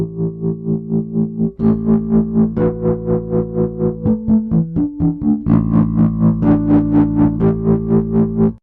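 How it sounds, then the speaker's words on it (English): Distorted electric guitar through the drive channel of an EBS Fafner II bass amp, with tremolo pulsing the sustained chords in a steady fast throb; loud, played alone with no voice. "you'll hear the tremolo coming in"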